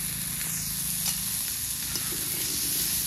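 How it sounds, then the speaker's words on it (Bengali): Cut potatoes sizzle and fry in oil left over from frying fish, a steady close crackling hiss with no talk, with faint stirring scrapes now and then. "মাছ ভাজা তেলের মধ্যে কেটে রাখা আলুগুলো ভেজে নেব।"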